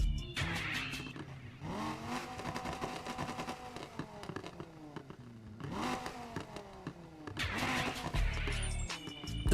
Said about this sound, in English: I'm gonna just let you guys hear how the car actually sounds